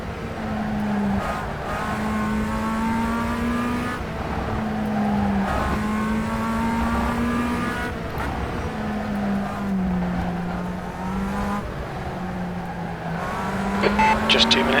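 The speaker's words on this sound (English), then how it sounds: "enjoy the sounds of the engine" Tatuus USF17 race car engine in rFactor 2 at Atlanta Motorsports Park, a continuous loud whine rising and falling through upshifts and downshifts over about fifteen seconds, steady and close with brief dips between gears.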